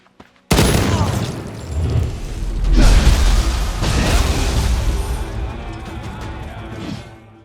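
Gunfire in a tactical strategy game with mercenaries opens with a sudden loud blast, then rolls into sustained rattling shots, booms and crashing impacts that swell and ebb for several seconds before trailing off.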